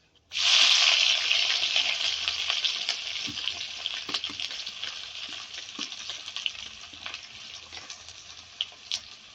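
Cumin, garlic and ginger hit hot oil in a pan with a sudden loud sizzle, then keep frying in a steady hiss with occasional pops and stirring taps.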